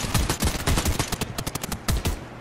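Rapid, loud video game gunfire, a choppy stream of closely spaced shots fired in quick bursts with brief gaps between them.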